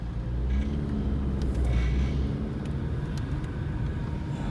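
A $600 sight-unseen Honda Civic driving along, its cabin filled with a steady low rumble and a continuous grinding drone from the running car, loud and unbroken with no talking.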